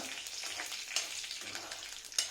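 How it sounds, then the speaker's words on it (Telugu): Quiet crackling and popping sizzle of mustard and cumin seeds spluttering in hot oil, with a few sharper pops standing out. "ఈ విధంగా చిటపట్లాడాక"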